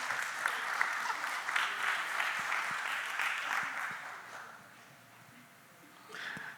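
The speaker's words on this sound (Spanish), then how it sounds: "Un aplauso al Señor por ella." A church congregation claps together in sustained applause, moderately loud and even before fading to a softer patter, with a brief swell again near the end.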